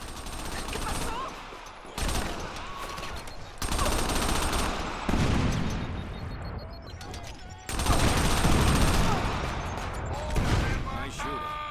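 Gunfire in the video game Crackdown, loud sustained bursts of automatic weapon fire broken by brief pauses, heard alongside in-game voices and other action noise.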